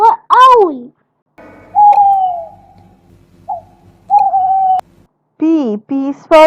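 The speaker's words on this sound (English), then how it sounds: "O is for owl" A cartoonish owl hoots in a few short calls within a children's phonics song, with sung voices before and after.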